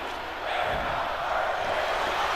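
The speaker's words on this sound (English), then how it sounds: "The crowd chanting, "You're not worthy."" An arena crowd in the WWE 2K25 video game chants as a steady, loud, dense roar that stays constant throughout.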